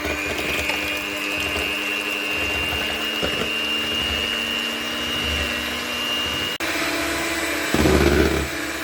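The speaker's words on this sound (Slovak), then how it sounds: "Keď už bielka máme oddelené, tak si vyšľaháme z toho sneh." Electric mixer whisking seven egg whites into stiff foam for a Sacher torte, a steady motor whine running throughout with a brief change in tone near the end.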